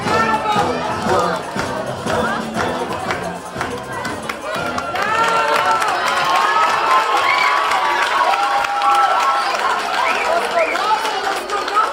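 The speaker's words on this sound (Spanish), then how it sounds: "Démosle otro fuerte aplauso." An audience at a children's center celebration claps and cheers over a noisy crowd, with children's voices and shouting mixed in, steady and loud throughout.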